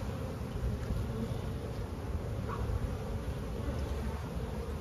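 A steady, low buzzing of many honeybees at their hives hums continuously, fairly close, on a bright sunny day, with no talking.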